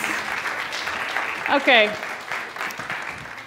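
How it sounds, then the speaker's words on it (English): Applause from the crowd at a grand finale prize ceremony, steady clapping throughout with a brief spoken word in the middle. "Can I have a round of applause and a lot of A's?"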